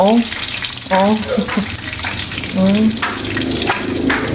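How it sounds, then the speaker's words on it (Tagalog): Loud, steady sizzling of pork frying in hot oil on its second fry, nearly crisp like chicharon, with bursts of crackling and occasional stirring, while a person talks over it. "Ayan, piniprito na namin. Pangalawang prito na ito, halos masicharon na nga"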